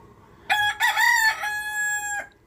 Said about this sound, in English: Sorry about the chickens guys.